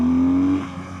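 A 2025 BMW R12 nineT boxer motorcycle accelerates hard, its engine note loud and close as it pulls through the revs, then drops briefly as a quick-shifter gear change comes in near the end.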